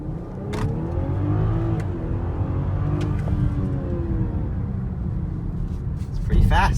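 A 2019 BMW X5 xDrive40i accelerates hard in a test run, its engine note rising steadily through the gears as a muffled in-cabin rumble and whine, with a few short thumps and noises near the end.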